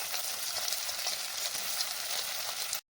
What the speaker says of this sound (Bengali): বাকি ধোকাগুলোকেও আমি একই রকম করে ভেজে নেব